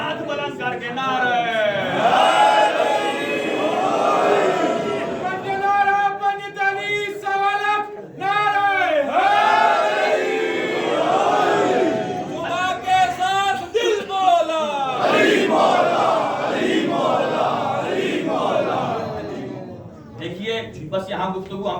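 A crowd chants a slogan in unison with raised hands at an Eid Ghadeer celebration gathering, loud massed voices rising and falling in waves across the whole stretch, close and continuous.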